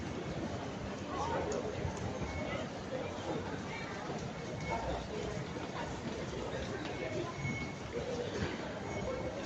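Steady rumble and rolling noise of an MRT train at Ang Mo Kio station in Singapore, a continuous dense wash of sound with faint squeals and background chatter throughout.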